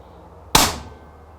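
A single sharp crack from a 30 foot-pound Daystate Huntsman Revere air rifle fired at a target 90 meters away, with a sudden loud snap that trails off quickly into quiet outdoor background.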